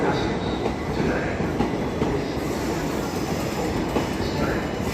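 Steady roar of a train passing through Clapham Junction station, with close carriage rumble and clickety-clack of the wheels on the rails throughout, and no voices over it.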